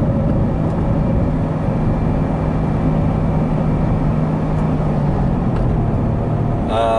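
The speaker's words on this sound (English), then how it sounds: "Putting the blower on the car with the NPP exhaust gave it a completely different exhaust note." A C7 Corvette fitted with an Edelbrock supercharger and NPP exhaust drives along, holding a steady, droning engine note with a constant low rumble from start to finish.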